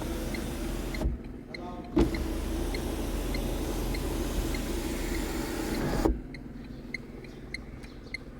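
The electric sunroof of a 2021 Tata Nexon XZA+ petrol runs with a steady motor whir for about five seconds, starting with a click and ending with a thunk, heard from inside the cabin with a faint background hum.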